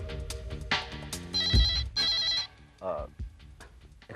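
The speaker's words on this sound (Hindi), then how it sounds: "एक्सक्यूज मी, शायद मेरे डायरेक्ट लाइन पर कोई फोन आया है।" A telephone rings on an office direct line with bright electronic warbling tones in short repeated bursts, mixed with a dramatic music score and low thuds.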